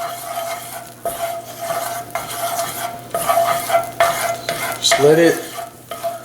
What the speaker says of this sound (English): I'm go ahead and add a little bit of minced garlic. Stir it around, don't let it burn.